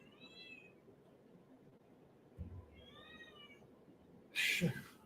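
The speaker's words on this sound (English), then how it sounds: "I've got a cat in heat, apparently." A cat in heat meowing indoors, two drawn-out, wavering yowls a couple of seconds apart, fairly faint, followed by a louder sharp rustle or thump at the end.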